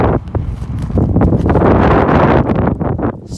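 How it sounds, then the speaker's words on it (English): Cold wind on a snowy peak in Montana's Cabinet Mountains buffets the microphone, a loud, rough, continuous roar with gusty surges throughout. "it's cold and windy up here."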